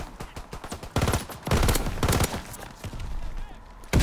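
Gunfire from a weapon in the video game Call of Duty WWII: rapid repeated shots in quick bursts, loud and punchy, with someone talking in between.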